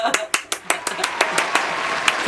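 Several people clapping together in rough unison at a casual indoor challenge game, about ten sharp close claps in a quick irregular rhythm over faint background talk.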